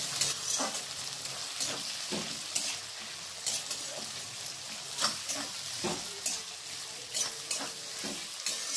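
Two large sliced onions sizzle over high flame in a pan, a steady bright frying hiss with periodic stirring scrapes and clatters, close up with no one talking.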